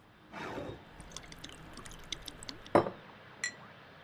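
Tequila poured from a bottle into two glasses, with light glass clinks and a sharper clink near the end, heard close and fairly quiet with no talking.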